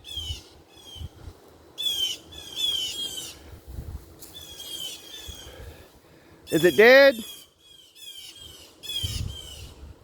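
Agitated birds squawk loudly in alarm after a cat has killed one of them, with sharp, harsh calls bursting in repeated clusters and a louder close squawk near the end, heard among people talking.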